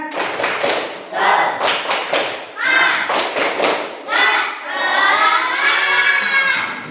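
Classroom group doing a rhythmic spirit clap game: bursts of patterned unison clapping and thumps in quick rhythmic runs, alternating with children chanting loudly together, close and lively.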